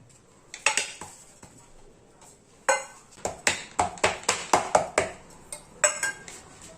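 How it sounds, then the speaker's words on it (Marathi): Sharp, clinking metal taps of a bowl pressing a hot sesame-jaggery tilgul mixture flat on a greased plate, a few scattered knocks followed by a quick rhythmic run of about a dozen close strikes. "असं वाटी वगैरे काहीतरी घ्यायचंय आणि लगेच थापून घ्यायचंय।"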